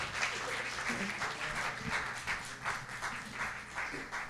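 Applause from an audience as a pair is called on stage at an afternoon talk event, a steady wash of clapping lasting a few seconds before fading.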